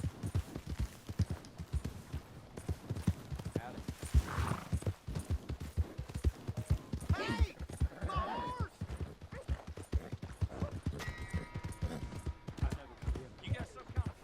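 Horse hooves in Red Dead Redemption 2, a steady clip-clop rhythm under intermittent talking and game sounds.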